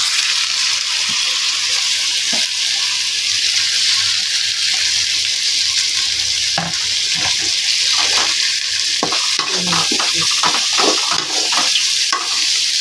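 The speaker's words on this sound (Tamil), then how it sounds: "தக்காளி போட்டு நல்லா வதக்கிக்கணும்" Tomatoes sauté in a pan for Chettinad-style mushroom gravy, giving a steady loud sizzle with intermittent stirring scrapes throughout and no talking.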